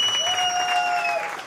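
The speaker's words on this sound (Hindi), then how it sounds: "तो एक बार जोरदार ताली हो जाए" An audience at a Hindi film's trailer and music launch bursts into applause after a romantic song, the clapping steady and full while a sustained musical tone rings over it.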